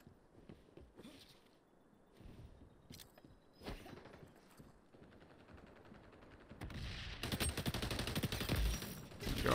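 Gunfire in the online shooter xDefiant, with scattered sharp shots at first that build into a loud, dense burst of rapid automatic fire near the end.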